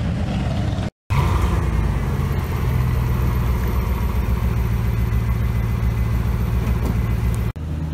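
Koenigsegg Regera hypercar with its engine running steadily and close, a low continuous rumble with a brief break near the start, with no talking over it.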